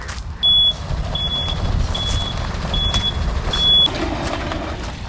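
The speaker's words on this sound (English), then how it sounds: "here's the truck with the Hartley" A delivery truck reverses with five evenly spaced electronic beeps over its low engine rumble, heard nearby in a home garden.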